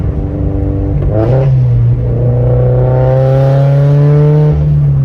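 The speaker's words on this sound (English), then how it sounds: "And like it rumbles, dude." Turbocharged Subaru BRZ flat-four breathing through a Tomei 80R exhaust revs up from idle, a deep loud rumble rising steadily in pitch over several seconds, close and alone without voices.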